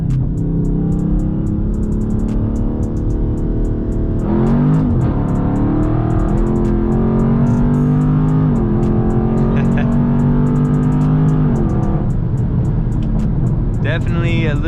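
A Dodge Charger 392 Scat Pack accelerates hard in Sport Plus mode, spinning its wheels as power is cut, its loud, steady engine drone rising in pitch with each gear, while someone talks throughout.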